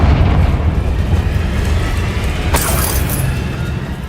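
A Confringo fire spell in Hogwarts Legacy bursts into a rumbling, roaring explosion that fills the scene, with a sharp crackling flare partway through before the blast fades.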